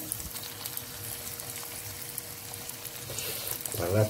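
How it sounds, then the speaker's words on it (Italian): Shrimp dropped into hot boiling oil fry with a steady crackling sizzle, close and continuous, swelling louder near the end as more bubbling rises. "si prendono i gamberi e si immergono nell'olio bollente"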